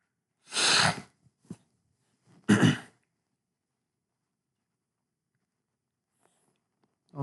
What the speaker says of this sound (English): I'm about to sneeze a third time.